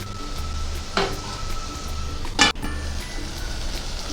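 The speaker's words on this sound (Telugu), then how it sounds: "మూత పెట్టుకుని ఈ టమాటాలు కూడా సాఫ్ట్గా అయ్యే వరకు వేగనివ్వాలి" Mutton and chopped tomatoes fry in oil in a covered pot, with a low steady sizzle and two sharp metallic clanks of lid or utensil.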